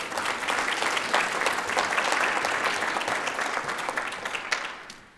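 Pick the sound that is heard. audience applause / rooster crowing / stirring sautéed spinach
audience applause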